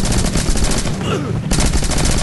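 Rapid gunfire from the video game Rocket Birds, bursts of shots filling the clip with a brief lull in the middle before firing resumes, close and loud.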